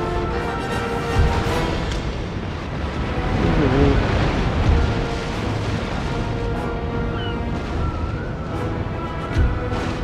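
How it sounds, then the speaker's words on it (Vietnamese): Naval battle in the video game Napoleon Total War, with a continuous dense roar of cannon fire and explosions, rumbling booms and faint tonal sounds layered throughout, loud and unbroken, no talk. "sắp lại có một vụ nổ kinh hoàng rồi"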